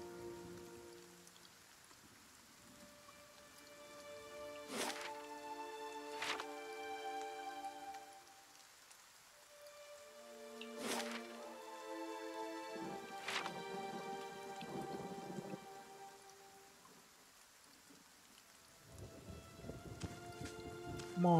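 Steady rain falls in the Gilded Vale area of the video game Pillars of Eternity, a soft continuous patter under a layered musical score with bell-like tones throughout.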